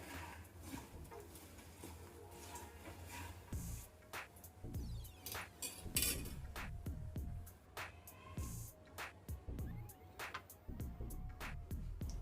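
Bitter gourd garlic curry being stirred in a pan with the stove off, a close sequence of irregular scraping and tapping strokes with soft rustles between them.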